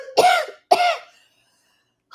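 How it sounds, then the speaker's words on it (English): A person coughs twice in quick succession, close and fairly loud, followed by silence. "I'm coughing"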